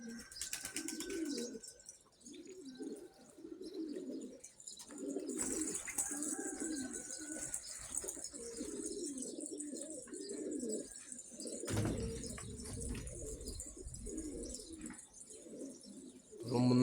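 Pigeons in a bird loft coo in soft, repeated rolling calls, with occasional faint chirps from other birds and no talking.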